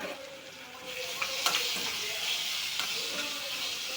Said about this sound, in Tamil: அதில் சிறிதளவு இஞ்சி பூண்டு விழுதையும் சேர்த்து நன்றாக வதக்கவும்.